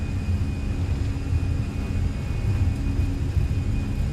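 Airbus A320 jet engines at takeoff power on a runway in Microsoft Flight Simulator, with a steady, loud, continuous rumbling roar and a thin high whine running throughout, without talk.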